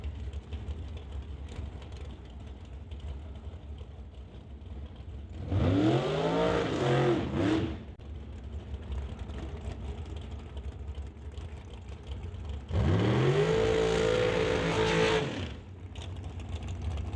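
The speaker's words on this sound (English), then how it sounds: "Brady Lowe brings out the JVS Equipment Dragster to race Emily Gerard" Two roaring passes of drag racing dragster engines at a drag strip, each a loud revving burst lasting a couple of seconds with rising and falling pitch, separated by a lull of background noise.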